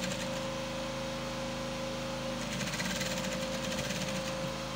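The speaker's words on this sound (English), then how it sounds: "Then sew on the rubber, take your time, sew on the rubber." Sewing machine stitching rubber elastic onto bomber jacket fabric, a steady continuous mechanical whir with rapid needle rhythm, running close and loud throughout with no voices.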